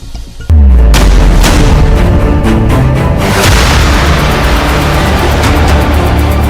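A BrahMos supersonic cruise missile blasts off with a sudden loud boom and then a sustained, heavy roaring rush that continues without letup.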